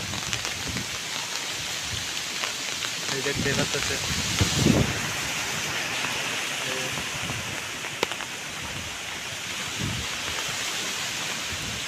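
Cyclone Remal lashes the area with heavy rain and gusty wind, a dense, steady roar of downpour with occasional sharper gusts and rattles, while a voice speaks briefly.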